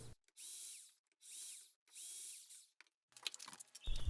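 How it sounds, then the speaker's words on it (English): Three sustained bursts of a power drill boring holes, each whining steadily for about half a second to a second with short pauses between, close and fairly loud, followed by clattering handling noises. "Okay, time to drill."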